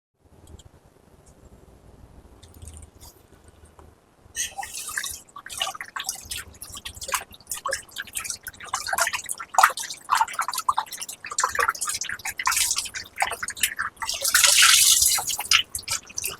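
Chicken pieces washed by hand in water with lemon juice, a steady run of splashes and drips that grows busier and louder after a quiet start, with no talk.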